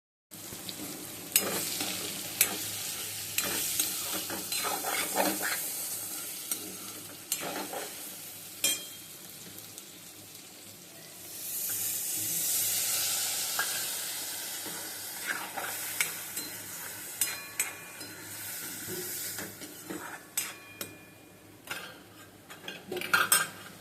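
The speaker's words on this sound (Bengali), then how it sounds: "জিরে বাটা দিয়ে ভালো করে কষিয়ে নেব" Cumin paste, chili and turmeric are stir-fried in a pan, with a steady oil sizzle and repeated sharp scrapes and clinks of a metal spatula against the pan, a louder hiss surging midway.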